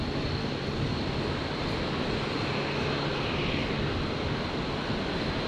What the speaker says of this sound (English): 330-200s heading straight over the top of us right now, actually.